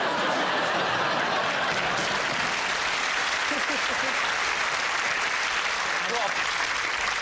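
A studio audience breaks into sustained applause, dense and even clapping that fills the room for several seconds, with scattered chuckles mixed in.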